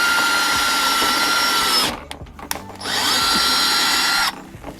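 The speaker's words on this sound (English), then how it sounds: "I just want to drill slowly so it doesn't smooth." A power drill boring holes in a Nissan 350Z front bumper for a Magicdrift N3R lip, two loud, sustained high-pitched whirring runs separated by a short pause with faint handling noise.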